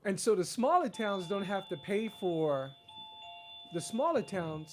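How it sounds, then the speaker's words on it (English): An electronic alarm chimes twice with steady sustained tones, warning that a room is getting hot. It sounds at moderate volume during and after a man's speech. "that's my alarm saying that it's getting hot in here"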